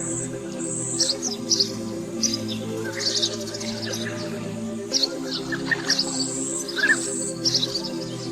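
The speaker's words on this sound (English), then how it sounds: "These bee eaters, part stunt pilot, part ninja, outmaneuver the eagle and live to fly another day." Bee-eater birds give scattered high chirps and short calls in bursts over a steady low hum of background noise, moderately loud and fairly close.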